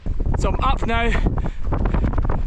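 Strong wind gusts buffet the microphone in a snowstorm whiteout on a Sierra mountain ridge along the Pacific Crest Trail, a loud continuous roar under a man's close speech.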